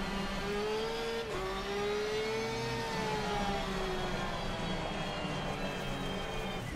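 A racing car engine in a sim racing game held at steady high revs with brake and accelerator pressed together, a loud continuous drone whose pitch rises slightly and then eases back.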